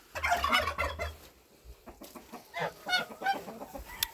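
Chickens in a poultry yard squawk and cluck loudly in short bursts close by, a flurry of agitated bird calls with brief pauses between.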